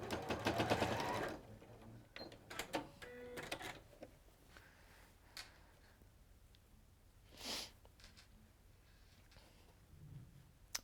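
A domestic sewing machine runs in several short bursts of rapid stitching, with the loudest run at the start and quieter stops and starts after it, plus a few clicks and handling noises in between.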